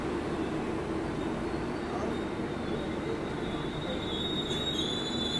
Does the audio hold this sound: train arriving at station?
yes